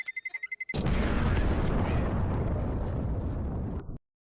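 A spider-like seed pod bursting apart and flinging seeds at high speed, heard as a sudden loud explosive blast that rolls into a sustained broadband roar for about three seconds before cutting off, preceded by faint rhythmic pulses.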